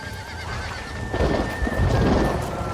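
Horse neighing and whinnying in the Red Dead Redemption video game, with a long high whinny ringing out over rumbling hoofbeats and heavy low thuds that swell louder toward the end.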